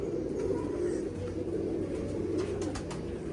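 A pigeon coos softly in a repeated low, throaty rhythm close by, with faint chirps from other birds in the background.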